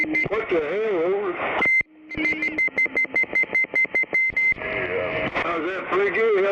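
A radio emits a steady run of evenly spaced, Morse-like beeps, each a sharp tone, between stretches of loud, distorted radio voice chatter.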